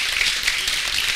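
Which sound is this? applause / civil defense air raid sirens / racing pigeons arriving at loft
applause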